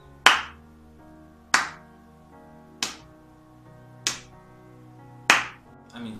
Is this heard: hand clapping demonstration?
yes